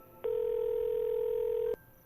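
Phone ringtone on an outgoing call: a single steady electronic tone lasting about one and a half seconds, close and clear over faint background hiss.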